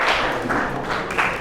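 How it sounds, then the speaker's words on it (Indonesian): Classroom applause for a student discussion group in a high school lesson, a dense steady patter of many hands clapping at moderate loudness, with a few louder swells, and no talk over it. "Beri tepuk tangan dulu untuk kelompok 6"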